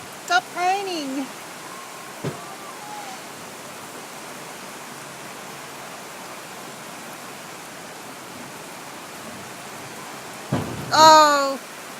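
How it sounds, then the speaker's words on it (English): Heavy rain pours down during a suburban street flood as cars are swamped, a steady, even roar of downpour with brief voices speaking at the start and near the end. "Stop raining."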